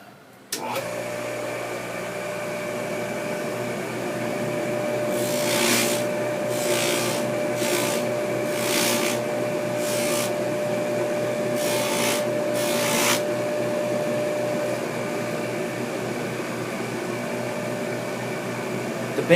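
A scratched watch bracelet is polished on a running polishing machine, its steady motor hum broken by several rasping rubbing passes in the middle, each a second or so long, close and fairly loud with no talk.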